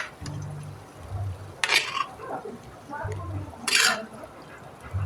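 A spoon scrapes and tosses chopped onion and capsicum in a pan in two short, bright bursts, with a person talking over low cooking noise in between.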